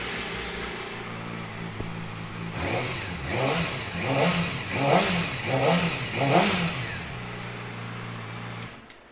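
A 2008 Yamaha R6 sport motorcycle with about 10,000 miles idles, then revs repeatedly in a series of rising and falling blips close by, before dropping back to idle and cutting off at the end.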